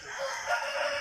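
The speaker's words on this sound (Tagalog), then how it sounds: "yung mga ilan sa mga natira nating mga manok dito sa ating yard" Backyard chickens and roosters on a farm in Bulacan, their crowing and clucking forming a steady, continuous chorus through the short stretch with no talk.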